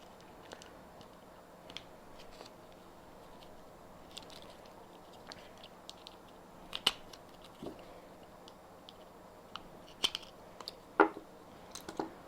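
Casing of an AEG or Makita cordless drill battery pack being opened, with quiet scattered plastic clicks, ticks and snaps up close against a low background, growing a little more frequent toward the end.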